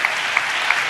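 A church congregation claps during a pastor's sermon, a steady dense wash of hand claps filling the whole second with a few sharper peaks, with no voices over it.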